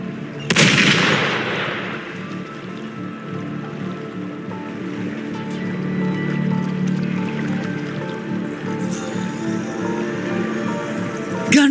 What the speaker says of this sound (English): Gunfire! We've got intruders.